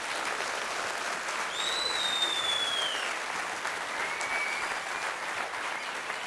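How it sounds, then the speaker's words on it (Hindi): An audience applauds steadily and loudly at a talk, a dense sustained clatter of many hands with a few faint whistles rising above it, and no voices speaking. "जोरदार ताली बजा दीजिए उसके लिए।"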